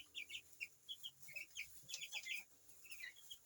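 Seventeen-day-old Cobb 500 broiler chickens cluck and peep softly in a steady, overlapping chatter, like a flock gathered nearby in a quiet shed.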